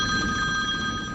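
A telephone rings close by with a bright, steady electronic bell tone that holds for about a second with nothing else around it.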